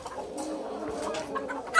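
Warwick chickens and a rooster cluck softly in a garden, a few low, close murmuring clucks running together, with a sharper call at the end.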